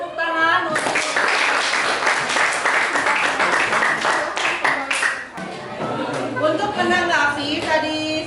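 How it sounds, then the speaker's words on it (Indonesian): An audience in a classroom teaching session claps together in steady applause for several seconds, then the clapping thins into scattered claps while people chatter and talk nearby. "Oke, berikan tepuk tangan untuk"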